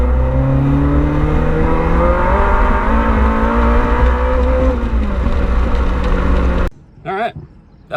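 K-swapped Mini Cooper on a nitrous pull, engine note climbing loudly and steadily through a long sustained acceleration before cutting off abruptly near the end, followed by brief rustling.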